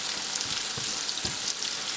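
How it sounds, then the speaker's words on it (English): Onions frying in a pan with other ingredients, a steady close hiss of sizzling oil with a few soft stirring knocks. "Fry the onions and all the other ingredients in here until the onion reaches very"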